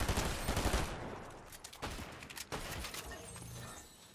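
Shotgun fire in Fortnite: a quick cluster of sharp blasts at the start, then a few separate heavy shots spaced apart, fairly quiet overall with game clatter between them and no talking.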